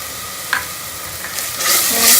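Aloo baingan sizzles steadily in a hot pan with tomato, green chili and garlic-ginger paste, with a brief stir and a louder burst of hissing near the end as spices are added.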